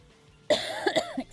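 A single harsh cough bursts out close by, followed by a couple of rough throaty coughs that trail off.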